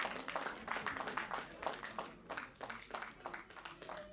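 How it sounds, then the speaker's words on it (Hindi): Steady applause from an audience at an outdoor blanket distribution event, faint and distant, with a loose rhythmic patter of clapping running continuously. "सभी दर्शकों से, महानुभावों से अनुरोध है कि आप लगातार तालियों के द्वारा उत्साहवर्धन करने का कष्ट करें।"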